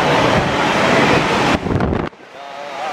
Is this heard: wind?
yes